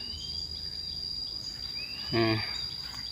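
A frog gives a short, loud croaking call near a pond or burrow at night, standing out over a dense, continuous chorus of chirping insects.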